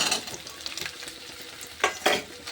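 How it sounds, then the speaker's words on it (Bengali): Small soybean chunks frying in a pan with carrot and beans, stirred briskly so a soft sizzle is broken by sharp scraping strokes of a utensil, close by and without speech. "দেখো সয়াবিনটা কত সুন্দর করে ভেজে নিলাম খুব সুন্দর করে ভাজা হয়েছে"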